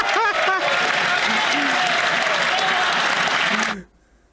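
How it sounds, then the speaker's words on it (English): A crowd in the Canadian House of Commons claps steadily for a few seconds, with a voice talking over it, before the sound cuts off abruptly as the microphone is muted. "They don't like to have too much supporting clapping going on."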